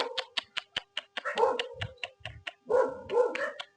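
Dogs fighting, with a rapid string of sharp barks and yips that give way to snarling, growling scuffles and whimpers. The sound is close and loud, and no one speaks.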